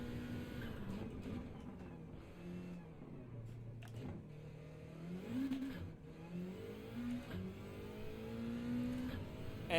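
A Subaru WRX engine in the racing game Gran Turismo 7 revs and shifts continuously, its pitch climbing and dropping through the gears at a low, steady volume with no talking.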